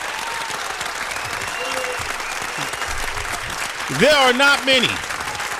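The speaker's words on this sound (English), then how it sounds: "give me a round of applause, Torch. Give me a round of applause." Broad, steady applause from a crowd fills the room, with someone talking over it and a brief louder vocal burst near the end.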